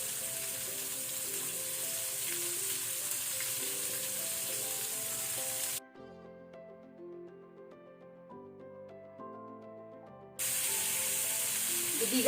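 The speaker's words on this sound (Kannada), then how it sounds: "ಈಗ ನಾವು ಒಂದೊಂದು ಶ್ರಿಂಪ್ಸ್ ಅನ್ನು ಡೀಪ್ ಫ್ರೈ ಮಾಡ್ಕೊಳ್ಳುವ." Shrimps deep-frying in hot oil over a medium flame give a steady, bright crackling sizzle. The sizzle drops out in the middle, leaving only background music, then returns at full strength.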